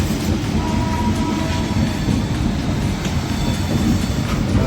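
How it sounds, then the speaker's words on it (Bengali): Rajdhani Express pulling out of New Delhi station on a Delhi to Kolkata run, heard from onboard as a continuous close rumble of wheels and carriages with faint rhythmic rail clatter, steady and unbroken. "একদম জাস্ট টাইমে রাজধানী এক্সপ্রেস ছেড়ে দিল।"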